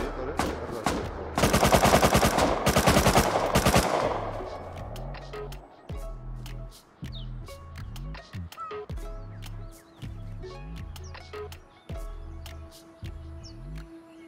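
Rapid automatic gunfire in the Rust survival game, a dense loud burst followed by scattered single and short-burst shots with a steady low rhythmic mechanical thumping beneath, no talk over it.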